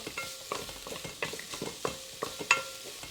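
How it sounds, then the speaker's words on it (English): Chopped shallots fry in a pan, giving a light close sizzle broken by rhythmic stirring scrapes of a spatula, steady and fairly quiet, with no voices. "Fry them until they are a little bit translucent, just to release the flavor."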